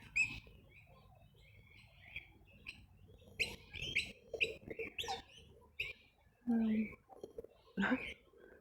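Birds chirping and calling outdoors at sunset, short tweets scattered around a soft background with a few louder calls near the end.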